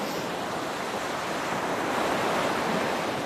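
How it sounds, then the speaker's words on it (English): Steady, continuous ocean surf washing in, a broad soft roar with no distinct breaks, close and moderately loud, heard alone without voices. "Enjoy the sound of the waves, which have an additional soothing,"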